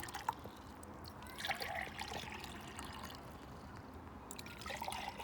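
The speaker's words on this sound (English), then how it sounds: "I'll pour some water in my glass." Water is poured into a glass while preparing Easter egg coloring, a soft, quiet trickle with faint splashes and drips that continues for several seconds.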